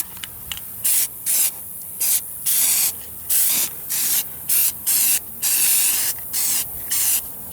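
Short bursts of aerosol spray paint applying a camo pattern to an AR15 rifle, about a dozen hissing sprays of varying length in an uneven rhythm, close and loud with brief pauses between.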